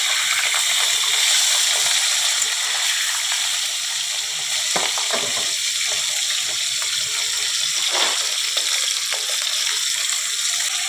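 Rohu fish pieces frying in hot oil give a loud, dense crackling sizzle throughout, with a few sharper pops and scraping touches of a spatula and no speech.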